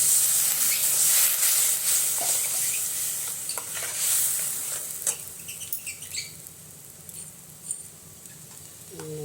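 Water hits a hot cooking pan with a loud hissing rush of steam that gradually fades into softer sizzling and scattered pops.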